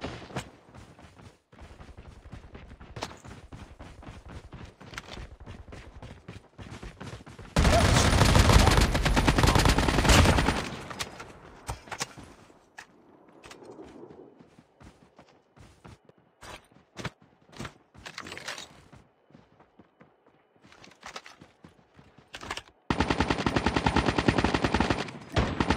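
Automatic gunfire in the Call of Duty Mobile video game, with dense, loud bursts of rapid shots, a sustained heavy barrage mid-clip and another near the end, interspersed with scattered single shots and quieter stretches.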